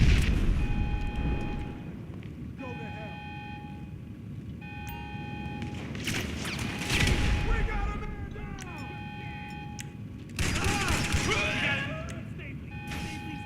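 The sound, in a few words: grenade explosions in video game GTA 5 Online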